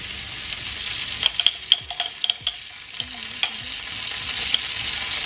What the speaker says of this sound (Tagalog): gigisahin ko lang yung sibuyas